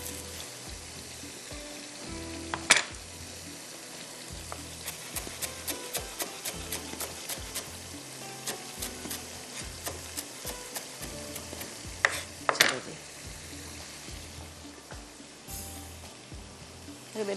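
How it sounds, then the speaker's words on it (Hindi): Rice tahiri fries over a high flame with a constant close sizzle, while a spoon knocks and scrapes against the pot in quick repeated strokes and a few louder clanks. "बस अभी ये तेज़ आग पर भुना जा रहा है।"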